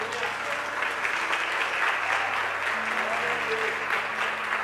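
A church congregation applauds continuously in a dense, even wash of clapping, with faint voices and a low sustained tone underneath.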